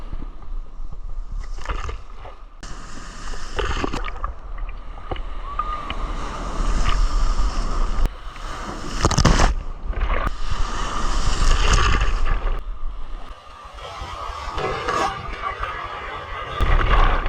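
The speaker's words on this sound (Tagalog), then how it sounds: "Ang lakas ng alon oh." Strong sea waves surge and crash at Half Moon Bay, Antigua, loud and continuous with gusty wind buffeting the microphone, occasional voices mixed in.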